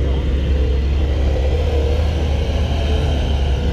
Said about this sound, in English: let's see if we can hear this 992